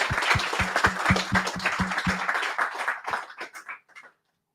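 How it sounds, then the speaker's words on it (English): Audience applause at a tech meetup on Azure landing zones: a dense burst of clapping with rhythmic low thumps in the first half, thinning to scattered claps before fading out. "Round of applause again for Nick"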